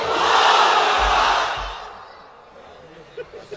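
A large crowd at an Islamic sermon gathering roars a loud, sustained takbir chant in unison for about two seconds, then fades into quieter murmuring with a few scattered voices.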